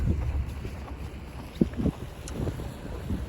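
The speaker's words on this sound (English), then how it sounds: "Been windy all morning." Wind buffets the microphone in a low, continuous rumble as a storm starts, with scattered soft thumps and knocks beneath it.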